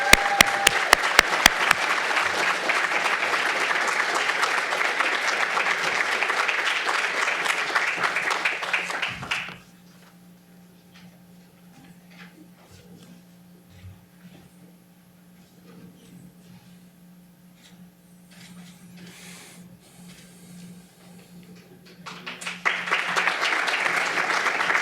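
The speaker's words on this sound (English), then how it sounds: "So let's give a round of applause to John." A graduate awards ceremony audience bursts into loud, sustained applause that stops abruptly, leaving a quiet room hum, then another wave of clapping swells near the end.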